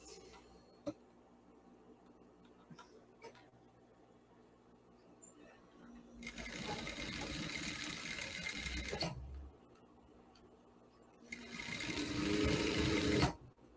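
A sewing machine stitches a fabric binding strip onto a garment in two loud, steady whirring bursts of a few seconds each, separated by quieter handling sounds and clicks.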